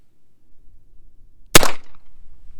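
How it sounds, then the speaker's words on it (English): A single sharp, loud gunshot from a Rough Rider revolver cracks out of near silence and leaves a brief ringing tail, with no voices. "first shots here."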